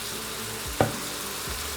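A faint, steady sizzle of onion frying in vegetable oil in a cauldron-style pot, with a single soft clink partway through.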